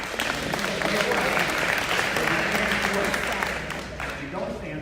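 An audience at a community meeting about a new community center applauds, a broad, busy burst of clapping from a roomful of people that fades slightly near the end.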